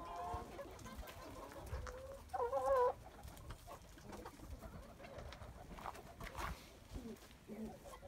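Chickens in a coop cluck in short bursts, some louder and closer, among faint rustling.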